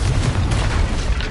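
A Confringo fire spell bursts in a Harry Potter wizarding video game, a loud, sustained boom with deep rumble lasting over a second, steady and heavy rather than a single sharp crack.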